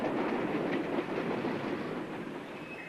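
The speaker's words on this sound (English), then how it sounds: "hidden behind the wall of number 23 is a tunnel and the tracks for a regularly scheduled train" A regularly scheduled train runs on tracks through a tunnel, producing a dense, continuous rumbling roar with rhythmic clatter. It is loud and close at first and eases slightly as it continues.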